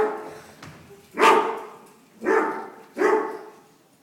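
Gun dogs barking in the countryside, three loud, sharp bark bursts in an irregular rhythm over quiet background, fairly close.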